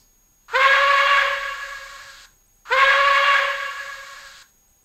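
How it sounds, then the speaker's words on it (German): A PIKO N-scale BR 82 steam locomotive sound model gives two short steam whistle blasts, each about two seconds, bright and hissy with a breathy tail, separated by a brief pause and otherwise silent. "F2 Dampfpfeife kurz,"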